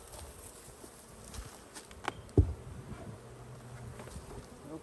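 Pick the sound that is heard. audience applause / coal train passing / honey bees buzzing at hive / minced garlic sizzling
honey bees buzzing at hive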